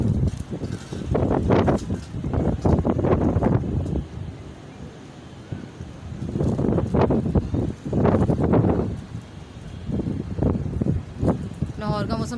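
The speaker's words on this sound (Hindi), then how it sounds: "बहुत तेज़ हवा है।" Strong wind gusts through a city in Lahore under dark, rainy-season clouds, a steady broadband rush that swells and eases for about twelve seconds beneath intermittent nearby talking.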